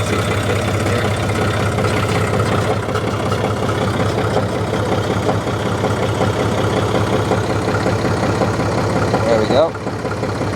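A John Deere tractor engine runs steadily close by, a rough low diesel rumble that holds level throughout before a short change near the end, with someone speaking over it.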